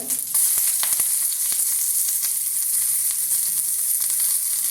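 Chopped onion, curry leaves, ginger and garlic fry in a pan with a loud, continuous sizzle and crackle. A few faint clicks of stirring sound through it.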